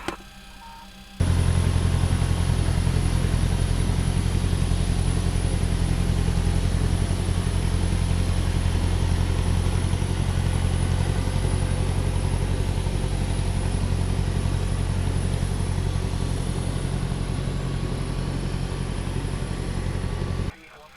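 Steady, loud engine hum from a 1976 ex-Iberia DC-9 airliner at taxi, heard from the cockpit, holding constant for about twenty seconds after starting abruptly, with a faint high whine above a deep drone.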